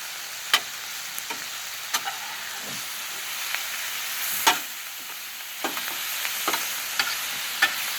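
Zucchini and onions fry on an outdoor Blackstone griddle, a steady soft sizzle with repeated sharp scrapes and taps of a spatula against the metal surface.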